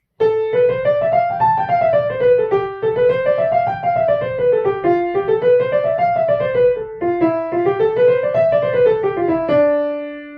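A piano runs smooth scale exercises up and down, each pattern starting a step lower, legato and loud, no voices.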